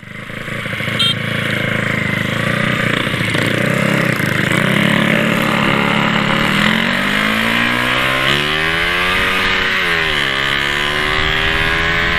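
A Honda Wave 125 motorcycle with a four-valve engine and an aftermarket exhaust starts up, settles into a steady loud drone, then revs up and down near the end, with the exhaust pitch rising and falling.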